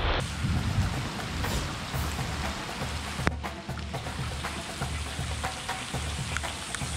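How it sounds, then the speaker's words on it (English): Pouring rain falls steadily and heavily throughout, a dense broadband hiss with a continuous low rumble underneath and no voices. "In the rain! In the pouring rain!"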